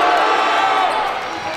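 Basketball arena crowd at a Salem Capitals vs Vancouver Volcanoes game, a dense, steady roar of many voices that fills the space and fades slightly toward the end.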